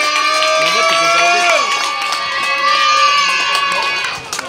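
A crowd of children and adults cheers, shouts and screams with sustained high voices at a concert in Forbach, loud and continuous.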